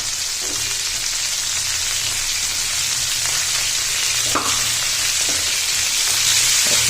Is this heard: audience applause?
no